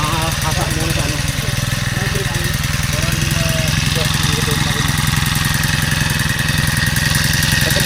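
A small engine runs steadily close by, a continuous rapid mechanical chug at even loudness, while a person talks over it.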